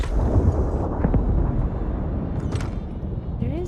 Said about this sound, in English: There is definitely a lot of explosions.